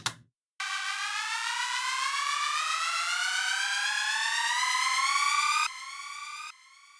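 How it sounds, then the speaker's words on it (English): A synth riser: a bright, buzzy tone sweeping slowly upward in pitch for about five seconds, then dropping away in two quieter steps. "the last sound that I used this on was this riser, which you can hear right now"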